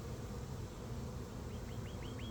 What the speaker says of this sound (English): Looks like most of the bees are home today.